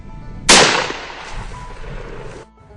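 A single loud shotgun blast firing number 6 heavy shot at a turkey pattern target outdoors, followed by a lingering roll of echo that fades after about two seconds.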